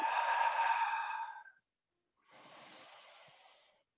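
Two deep breaths during a strong morning yoga flow, a long airy inhale followed after a short pause by a softer, breathy exhale, close and alone with no talking.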